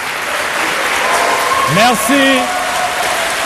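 A crowd at an agricultural development event claps, a steady wash of applause that swells slightly in the middle, while a short spoken thank-you and a brief tonal chirp sound over it.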